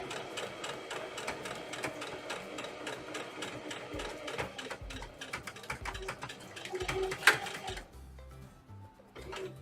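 A sewing machine runs steadily, stitching the pocket seam of a Betty dress in a rapid, continuous mechanical patter that stops near the end, leaving quieter handling sounds.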